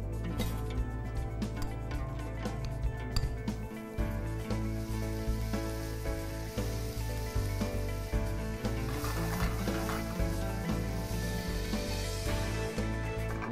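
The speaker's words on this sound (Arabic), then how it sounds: "مقلاية حارة حنحط فيها الزبدة" Butter melting in a hot Tefal frying pan, a steady crackling sizzle under constant tonal background music, with no voices.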